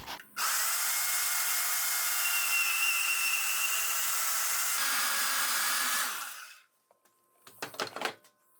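A power tool cuts straight across a steel bracket for a Ford 8.8 rear axle install in an S10, a loud steady grinding whine for about six seconds that then winds down, followed by a few brief clanks.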